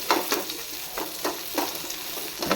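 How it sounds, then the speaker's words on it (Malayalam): Onions and tamarind stirred in a hot pan for a chutney give near, rhythmic scraping strokes about every half second over a steady low sizzle, with no talking. "ജസ്റ്റ് ഒന്ന് ഇങ്ങനെ ആയത് നമുക്ക് പുളി ഇട്ട് കൊടുക്കാം. എന്നിട്ട് നന്നായി ഇളക്കി കൊടുക്കാം."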